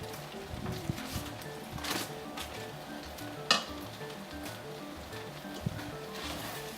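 Cream cheese sizzling as it melts in a hot pan on medium heat, a steady quiet crackle and hiss with soft scraping and stirring sounds and one sharp click midway.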